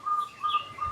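Short, clear whistled calls of an African starling in an aviary repeat three times in a steady rhythm, close by, with a soft background hum.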